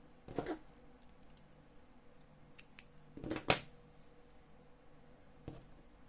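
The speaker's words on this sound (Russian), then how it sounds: "Обрезаю вот эти вот коротенькие хвостики" Scissors snip short yarn tails on a small crocheted Pikachu keychain toy. There are a few faint, close, sharp clicks spread over several seconds in a quiet room.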